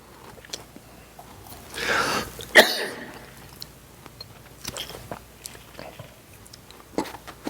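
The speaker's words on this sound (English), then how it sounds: "I'm trying to keep it from this side when I cough" A pastor leading a Bible study lets out a sharp, loud cough burst near the middle, standing out against quiet surroundings and scattered soft speech.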